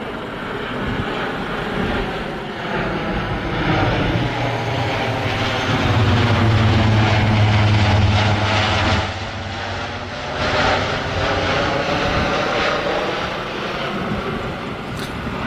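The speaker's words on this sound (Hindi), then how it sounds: "ये आ रहा अमेरिकन एयरफोर्स का हल्क।" A US Air Force military aircraft flies over near an American airbase in Germany, giving a loud, continuous droning roar with a low engine hum that peaks and then eases, heard alone without talk.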